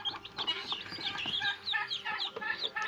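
Newly hatched Vanraja and Kadaknath chicks from a machine hatchery at a farm peep in rapid, high, overlapping chirps, close and fairly soft, continuing throughout.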